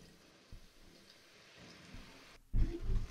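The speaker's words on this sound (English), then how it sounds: "As you can see, this thing is dried, so you add a little water." Water is poured into a pot of drying red-oil jollof rice, giving a soft wet splash and sizzle near the end. Before it there is only quiet kitchen ambience and faint handling, with no talking.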